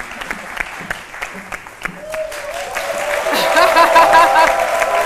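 Studio audience on a French-language television talk show set breaks into applause, building from scattered claps into steady, fuller clapping that swells toward the end, with voices talking over it.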